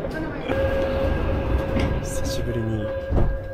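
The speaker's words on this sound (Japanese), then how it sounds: "電車に乗り" Seoul subway Line 1 train in motion, a steady loud rumble with a sustained whine and faint rattles, one sharper jolt near the end, heard from inside a carriage.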